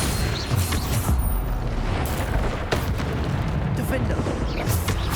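Bombarda explosion spell cast in Hogwarts Legacy amid a busy duel, heavy booming blasts and rumbling impacts stacked over constant battle noise, loud and close, with a voice calling out spell names in between.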